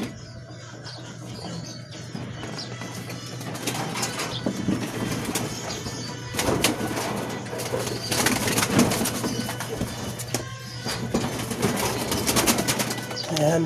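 Racing pigeons coo and flutter close by in a loft, soft repeated calls mixed with wing rustles and scraping, with a low hum underneath and a voice talking at times.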